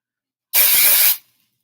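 One loud, close hiss of spray from an aerosol can lasting about half a second, stopping abruptly and trailing off into silence.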